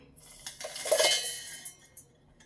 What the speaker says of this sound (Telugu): ఇప్పుడు ఒక మిక్సీ జార్ తీసుకుందాం